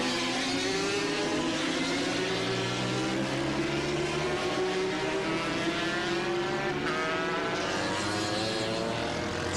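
Racing cars roar around the 1984 Gracefield street circuit, several engines droning loudly and continuously with shifting, whining pitches as the cars accelerate and pass close by.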